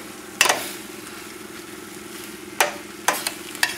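Ground beef with herbs and spices cooking over high heat in a pan for chili gives a soft, steady sizzle, broken by a few sharp scraping clicks from stirring, with no talk.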